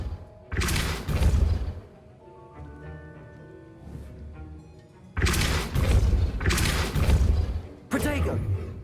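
Depulso force spell impacts in the Hogwarts Legacy video game: two heavy booming bursts with crashing, thudding debris, separated by a stretch of softer ringing magical tones.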